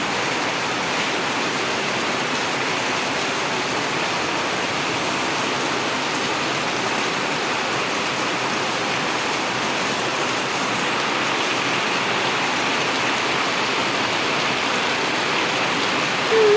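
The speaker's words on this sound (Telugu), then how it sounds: "ఫుల్ అంటే ఫుల్ వర్షం పడుతుంది ఈరోజు" Heavy rain pours steadily, a dense, even hiss of water that holds constant throughout with no voices.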